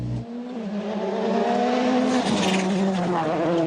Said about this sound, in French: Voilà la Focus numéro 1 de Jean-Marie Couoc qui à 44 ans va décrocher